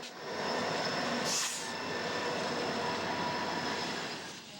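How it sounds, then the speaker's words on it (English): Light freight train of empty yellow TTX flat cars rolls past at Cajon Pass, a steady rumbling clatter of wheels and cars at moderate distance with a brief high squeal early on. "The second train is an empty flat car train that's as light as the previous train was heavy"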